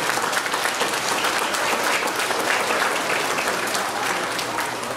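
Audience at a results announcement for school exams in Trinidad and Tobago breaks into sustained applause, a thick, even roar of many hands clapping that carries on unbroken without speech.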